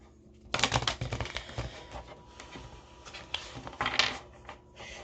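A tarot card deck is shuffled by hand in quick bursts of riffling, crisp papery clicks and flutters close to the microphone, with short pauses between shuffles and no talking.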